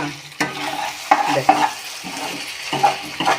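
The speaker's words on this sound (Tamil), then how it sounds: "அப்படியே சும்மா செத்த விட்டு அப்படியே கிளறிக்கிட்டே இருக்க வேண்டியதுதான், இல்லைன்னா அடி பிடிச்சிடும் இல்லையா." Potatoes sizzling and frying in a pan while a utensil stirs and scrapes through them in irregular strokes, close by, with no voices.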